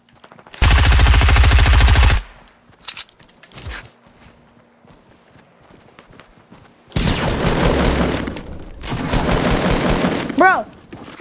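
Fortnite gunfire bursts out in loud sustained volleys, one long rattle early, then two more heavy bursts later with quieter scattered shots and footsteps between.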